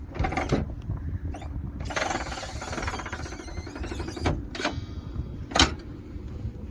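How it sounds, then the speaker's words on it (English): The lower bed of a Volkswagen T6.1 California Ocean camper van is lifted, shaken and pulled forward, producing close mechanical clunks, a rattling shake and a squeaking slide, with sharp knocks at intervals. "lift this fully up, pop a hand at the top and give the bed a shake, and then pull it forward"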